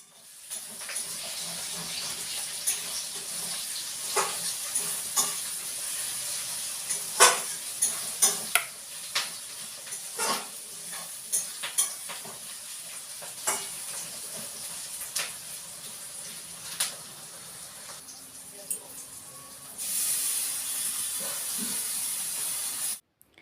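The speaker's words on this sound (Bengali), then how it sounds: "নতুন নিয়মে চিকেনগুলোকে প্রথমে ভেজে নিচ্ছে" Chicken pieces frying in a pan with a steady hiss and sizzle, broken by sharp, irregular scrapes and knocks as a spatula stirs them, all close up with no one talking.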